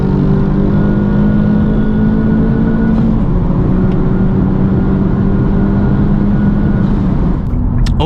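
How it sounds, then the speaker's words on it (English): A 2021 Honda Civic Type R engine at wide open throttle, heard from inside, with the AC actuator stuck partially open. It is a loud, steady droning roar with rising tones, and there is no talking. "this is what it sounds like when the actuator of your AC is stuck partially open under wide"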